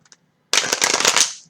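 A rapid riffle of tarot cards being shuffled, a dense crackling burst lasting about a second, close and alone, with a couple of faint taps beforehand.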